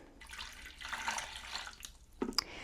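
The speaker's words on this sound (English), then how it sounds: "Just pour that right on into your mixing bowl." Lukewarm water, about 100 to 110 degrees, is poured into a mixing bowl for whole wheat sandwich bread dough, giving a soft, steady splashing trickle followed by a brief clink near the end.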